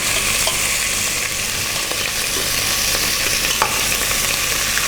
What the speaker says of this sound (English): I'm also browning the ends to make sure that it's evenly browned to get all that flavor out into the pot